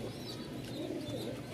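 Pigeons cooing softly and steadily at a pigeon seller's stall in Mirpur-1, Dhaka, with low rounded calls over a continuous background murmur.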